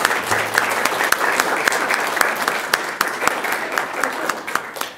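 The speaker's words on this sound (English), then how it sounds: "really do deserve just a huge round of applause" An audience at a school governing board meeting breaks into sustained applause, a dense steady clatter of many hands clapping that stays fairly loud throughout.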